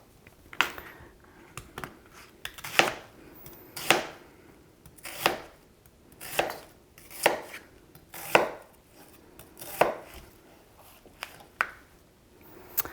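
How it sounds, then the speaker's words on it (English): A knife chops an onion on a cutting board in about a dozen separate, evenly spaced strokes, close and crisp, with no talk. "I'm just going to go ahead and chop up this onion so I get it all nice and consistent sizes"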